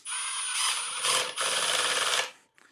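Milwaukee M18 Gen 2 Surge impact driver (2761-20) sinking structural screws, a close, loud continuous rattling run of about two seconds with a brief dip midway, then cutting off into quiet.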